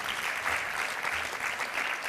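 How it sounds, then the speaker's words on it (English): Steady, even applause from an audience at a Bharatanatyam arangetram as the accompanying musicians are honored, a continuous dense patter of clapping throughout with no voices above it. "Let's give them a big round of applause,"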